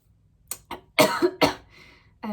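Several coughs from a woman with Covid in quick succession, close and fairly loud, with short pauses between bursts and a throaty final cough after a brief quiet gap.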